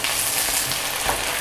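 Large pumpkin pieces fry in a pot for cream soup, a dense, even crackling sizzle heard up close for a brief moment, with faint stirring movement underneath.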